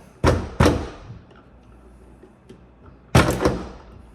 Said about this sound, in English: as you're riveting it in. Make one pull, pressure on the back, another pull on it.